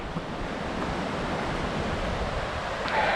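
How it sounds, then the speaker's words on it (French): A calm stream flows through the Gouffre de Malamort gorge, a steady broadband rushing of water mixed with light wind buffeting, close and continuous with no talk. "je pense que vous arrivez à voir ce ruisseau qui pour l'heure, je pense, est relativement calme"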